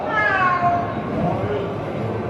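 A cat meows in a drawn-out, wavering call at close range, with a person talking over it throughout.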